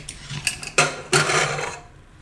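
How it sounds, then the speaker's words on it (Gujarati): A pressure cooker lid is opened after cooking moong beans, with a few close metallic clicks and scrapes followed by a short burst of steam hiss that trails off. "તો કુકર આપણે ખોલીને જોઈ લેવું."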